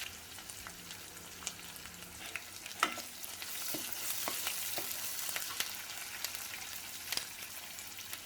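Dry red chillies, tempering seeds, curry leaves, green chillies and onions frying in hot oil for a ridge gourd and chana dal masala curry; a soft, steady sizzle with scattered crackles and spoon stirring, fairly quiet and without talk.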